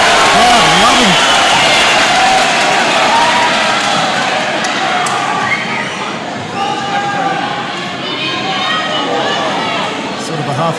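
Spectators at an Australian lightweight title MMA fight cheer in a steady roar beneath close commentary, swelling at the start and staying loud throughout.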